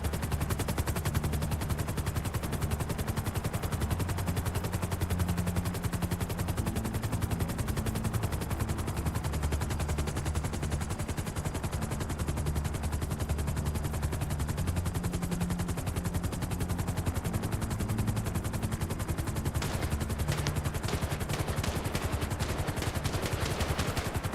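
Heavy gunfire aimed at a police helicopter in a video game sounds as a constant roaring wash with rapid automatic bursts, which turn into a quick clatter of sharp shots near the end; no one speaks.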